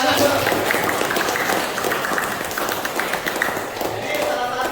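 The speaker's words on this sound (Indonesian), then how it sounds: "Oke, jadi luar biasa. Tepuk tangan." Students clapping in a classroom during a teaching practice lesson, a busy patter of hand claps at fairly close range, steady for several seconds with a voice faintly mixed in.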